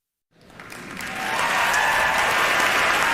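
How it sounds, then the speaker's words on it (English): Studio audience applause rising from silence into a dense, sustained round of clapping that swells over the first second and holds steady and loud. "Sadly, that applause wasn't for me."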